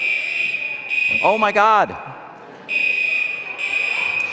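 A loud electronic alarm sounds in a room, giving a steady, shrill tone in repeated bursts, with a brief startled exclamation from a person during a gap in the alarm.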